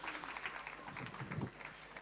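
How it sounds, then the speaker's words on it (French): An audience applauds briefly indoors, a soft, steady patter of many hands clapping at moderate distance, with some low murmuring mixed in. "applaudissez-les encore, comme ça, ils aiment ça."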